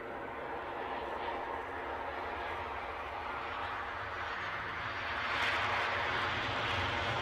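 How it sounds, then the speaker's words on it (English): A Loganair plane departing Edinburgh airport on a windy day, its engine a steady broadband roar heard from a distance that swells slightly toward the end, with no talk. "see a Logan Air on its way out"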